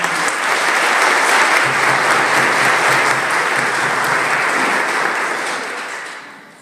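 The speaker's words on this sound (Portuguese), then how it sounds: "Damos uma salva de palmas à palavra de Deus." A church congregation at Mass applauds after the reading, a loud, sustained burst of many hands clapping that holds steady for several seconds and then tapers off at the close.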